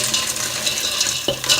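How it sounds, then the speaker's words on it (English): Cold tap water runs and splashes into a pot of freshly boiled eggs in a kitchen sink, a steady close broadband rush with a brief clunk of the pot near the end. "let's go put some cold water"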